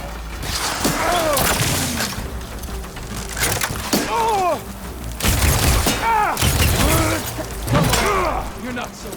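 Repeated bursts of gunfire from a battle in Horizon Forbidden West, loud and close, with booms and mechanical clatter mixed in and shouted voices between volleys.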